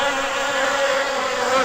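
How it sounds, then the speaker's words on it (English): Wasps swarm around nests in the adventure game Amerzone, a steady, dense insect drone that stays loud and close throughout with no pauses. "I hear something. Wasp nests."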